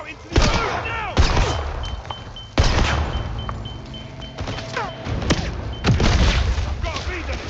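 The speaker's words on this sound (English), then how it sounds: "Grenade away!" Heavy booming explosions and bursts of gunfire in a shooter video game firefight, with a grenade blast among several loud thuds spread across the scene.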